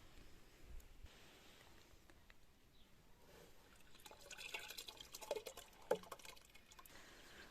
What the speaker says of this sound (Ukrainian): Поливаю цим огірки.